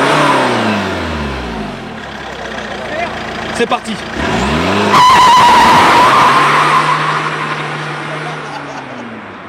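Tuned Fiat Multipla revving hard and accelerating, engine note sweeping up and down with tyres screeching in a long skid, loud and close, while people talk and shout excitedly over it.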